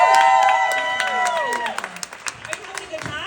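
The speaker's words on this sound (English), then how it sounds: "One more cheer for Heather Watkins." A comedy club audience claps and cheers after a comedian's set, a burst of applause that thins into scattered claps while a host speaks over it.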